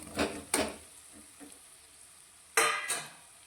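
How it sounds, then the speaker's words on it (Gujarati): Puffed rice balls stirred with sautéed spices in a kadai: a few scattered, close scraping stirs, two loud pairs separated by quiet gaps, with faint softer strokes in between. "આપણે જે મમરાના બોલ્સ તૈયાર કરીને રાખ્યા છે તેને આપણે કઢાઈની અંદર લઈ લઈશું"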